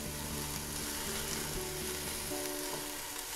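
Brussels sprouts sear over high heat in a hot saute pan with a loud, continuous sizzle that stays close and constant, with a faint tonal hum underneath.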